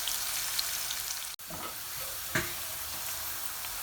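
Small onions fry in a pan for a potato and lamb curry, giving a steady close sizzle with occasional stirring scrapes and one brief dropout, no talking.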